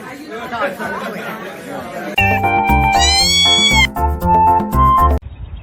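Cats meowing up close, starting with a jumble of chattering cat cries and then a run of loud, drawn-out tonal meows in quick succession, several overlapping before a sudden cutoff.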